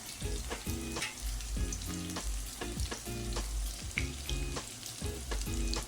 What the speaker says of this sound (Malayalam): നമുക്കതിലേക്ക് ഒരു രണ്ട് ചെറിയ ഉള്ളി അരിഞ്ഞ് ചേർക്കാം അത് നമ്മൾ മൂപ്പിച്ച് നമുക്ക് ഒരു ബ്രൗൺ കളറാകുമ്പോൾ